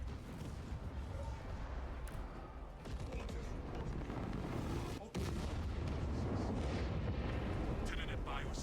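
A detonation in the Space Marine video game, set in a battle against the Tyranid swarm, erupts into a heavy, rumbling explosion with a sustained roar and a brief sharp break midway before the rumble continues.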